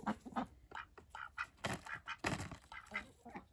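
Ducks quack in a rapid, uneven series of calls while feeding on black soldier fly larvae, with chickens nearby, the calls close and fairly loud with short gaps between bursts.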